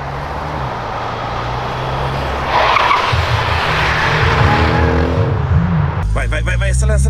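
A Stage 3 tuned Jetta TSI is driven sideways in an attempted drift, its engine droning steadily while the tires scrub and squeal loudly mid-clip. Voices in Portuguese call out over the car toward the end.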